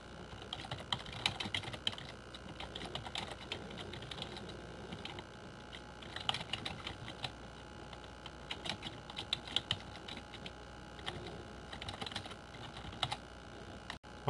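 Steady typing on a computer keyboard, close and fairly quiet, with rapid irregular key clicks and short pauses throughout, no voices.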